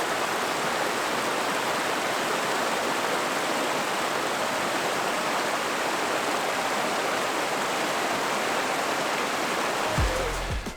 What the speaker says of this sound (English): Campsite right here on those falls, as you've seen before.